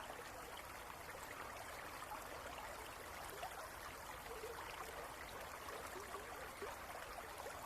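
A waterfall pours in a steady, soft, continuous rush of falling water with no pauses, heard faintly and from a distance, with no talking.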